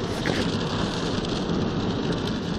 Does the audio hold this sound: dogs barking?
no